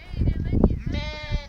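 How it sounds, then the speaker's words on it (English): Sheep on a farm bleat with wavering, nasal calls, one nearer and another behind, mixed with a person's voice and handling noise close to the microphone. "Look at all those sheep back there."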